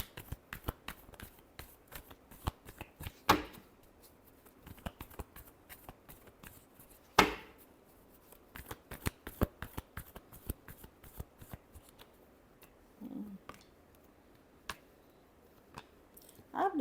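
Tarot cards are shuffled by hand in a quiet room, with soft riffling and repeated light flicks of card edges, a few sharper snaps standing out among the irregular bursts.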